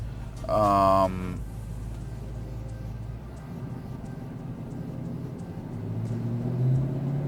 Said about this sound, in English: Car started back up.